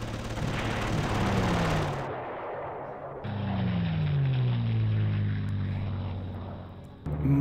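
Artillery fire and battle effects in the Panzer Corps strategy game: sustained loud rumbling blasts with a falling engine-like drone, a sudden cutoff partway through, then another long roar.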